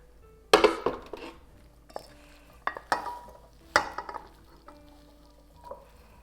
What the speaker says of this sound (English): So now I'm just going to put it in my bowl.